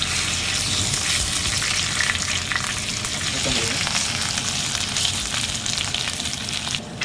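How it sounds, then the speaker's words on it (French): Marinade poured into a pan over a seared pork fillet, giving a loud, steady, hissing sizzle with a splashy pour underneath, close and continuous throughout. "Frédéric verse la marinade, hein, que l'on va laisser réduire maintenant qu'on a bien saisi le morceau"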